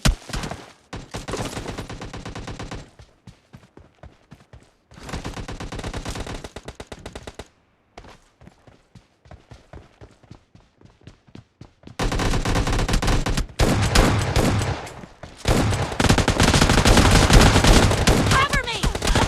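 Rapid repeated blasts from an S12K semi-automatic shotgun in a team deathmatch video game, loud and close, fired in bursts with short gaps between, then denser continuous firing toward the end.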